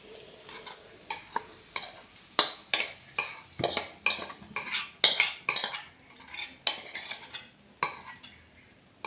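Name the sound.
tamarind water poured and stirred in a pan for puli inji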